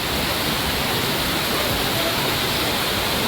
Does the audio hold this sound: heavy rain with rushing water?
yes